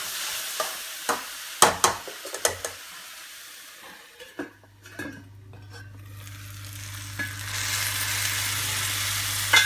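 A bitter gourd and mango curry mixture stirred in a pan, with several clattering spoon scrapes and knocks against the pan, then a steady, soft sizzle of frying that runs on alone.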